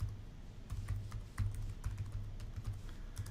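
Typing on a computer keyboard while entering an axis title in an Excel chart, heard as steady, close, soft key taps in irregular bursts with no talk.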